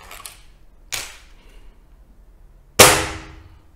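A gun fired through a barrel-mounted chronograph gives two sharp cracks in a quiet room, a lighter snap first and then a louder crack a couple of seconds later, each decaying quickly.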